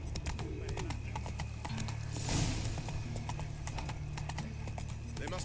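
Roach, a horse in The Witcher 3, gallops with a steady clip-clop of hooves over a low game-music bed, with a brief whinny-like swell near the middle.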